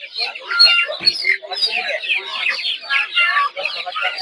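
Many Pakistani-breed chickens cluck and squawk in busy overlapping bursts at a village duck and chicken market in Putia, Narsingdi, with voices mixed in among the birds.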